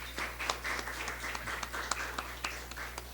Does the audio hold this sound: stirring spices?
no